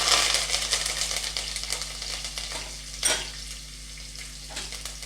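Green chillies and curry leaves frying in hot oil while cooking spicy khara pongal: a steady close sizzle and crackle with a few sharp pops, louder at first and easing off.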